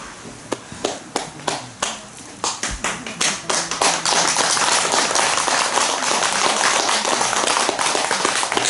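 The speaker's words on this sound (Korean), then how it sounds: "박수를 치려면 좀 시원하게 해주세요." Hands clapping at a Buddhist temple Dharma talk: separate claps at first, quickly building into steady, dense applause from a crowd of worshippers, loud and close, with no talk over it.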